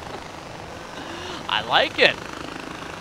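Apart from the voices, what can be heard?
helicopter in video game Far Cry 4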